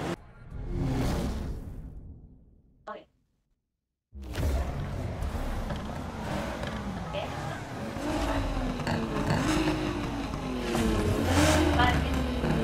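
Racing car engine from the Need for Speed Heat video game, revving and roaring continuously with whooshes and tire noise, after a brief near-silent gap, with a voice talking over the gameplay.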